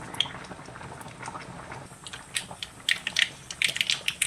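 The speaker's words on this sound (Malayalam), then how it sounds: "ഒരു പാനിലേക്ക് എണ്ണ വീത്തി എണ്ണ ചൂടായതിനു ശേഷം കടുക്" Mustard seeds fry in hot oil in a pan, crackling and popping in quick irregular bursts that grow busier toward the end over a soft sizzling bed.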